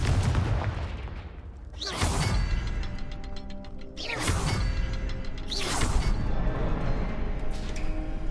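Confringo, the explosive fire spell in Hogwarts Legacy, cast several times, each a sweeping whoosh into a fiery burst, roughly two seconds apart over a rumbling background.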